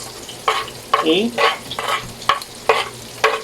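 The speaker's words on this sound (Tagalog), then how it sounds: "And you just saute or fry, as you call it, yung butter nyo" Garlic sautéing in melted butter in a pan, heard as a loud sizzle that swells in regular bursts with stirring, and a brief spoken word partway through.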